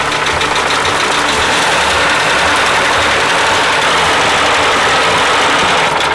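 Fiat 126p Maluch car engine running after its cooling water was refilled halfway up a mountain road in Kyrgyzstan, a loud steady rough rumble close by with no talk.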